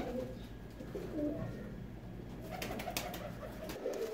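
Pigeons coo softly in a coop, a few low, throaty calls rising and falling close by amid quiet rustling.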